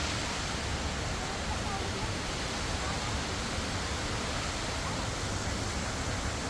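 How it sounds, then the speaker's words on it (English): A waterfall splashes into a hotel swimming pool in Santiago, Chile, making a steady, dense rush of falling water that continues unchanged throughout. "the pool's got a waterfall there."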